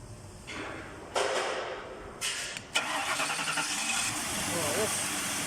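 A Ford Grand Marquis with a no-crank, no-start fault, its engine cranking and catching before settling into a steady idle, close by, with people talking over it.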